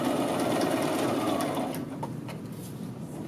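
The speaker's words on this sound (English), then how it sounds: "As I sew across it." A sewing machine stitches across a men's shirt collar, a steady close whirring hum that runs without pause and eases slightly toward the end.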